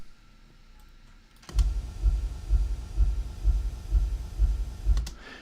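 A subsonic bump test signal played through subwoofers: after a second and a half of quiet room hum, a series of deep, regular low thumps pulses about twice a second, resonant and booming, with no talking.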